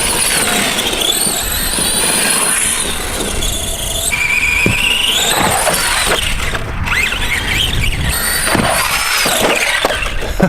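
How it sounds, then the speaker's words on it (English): ARRMA Granite 4x4 mega monster truck on a 2S LiPo driven flat out, a loud continuous motor whine with squealing pitch sweeps, rising and falling as it accelerates, alone without talk. "I'm pretty much going at full throttle the whole time."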